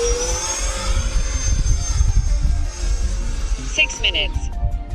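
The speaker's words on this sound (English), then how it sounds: "You have to throttle down to get this jet to slide around without crashing." A radio-controlled jet plane flies with its engine throttled down, a steady whining drone with shifting tones that stays fairly close and loud, while a person talks over it.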